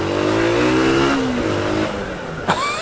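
A motorbike engine revs with a rising then falling drone as the bike pushes past a slow tractor on a road, fairly close and steady, ending with a brief sharp burst.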